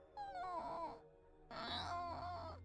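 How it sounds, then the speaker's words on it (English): A video game character in Zero Escape: Virtue's Last Reward lets out two drawn-out, wavering whimpers like a dog in pain, each lasting under a second with a short pause between, fairly faint. "it really does sound like what you would think of a dog whimpering in pain kind of thing"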